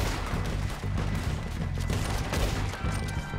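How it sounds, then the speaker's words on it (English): Rifle fire in Red Dead Redemption 2, a dense run of loud, closely spaced gunshots and booming reports filling the moment with no talk over it. "My rifle shoots pretty far, I'm not gonna lie."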